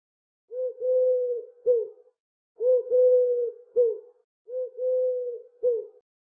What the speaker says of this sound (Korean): 뒷산에서 부엉이가 또 한 번 길게 울었다